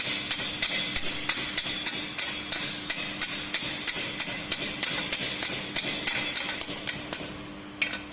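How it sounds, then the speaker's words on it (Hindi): A chipping hammer knocks flux coating off a lap weld in a steady series of sharp metallic strikes, roughly two or three per second, close and clear with no talk. "उस तरह से चिपिंग करेंगे तो जो फ्लक्स की कोटिंग है वो बाहर आ जाएगी।"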